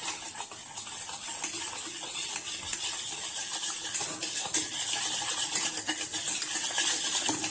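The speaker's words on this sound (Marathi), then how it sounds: "आता आपण हे सर्व मिश्रण व्यवस्थित एकजीव करून घेऊया" A spoon stirring sugar into chocolate cake batter in a bowl, with steady scraping and clinking against the sides that continue throughout, close and fairly loud, with no voices.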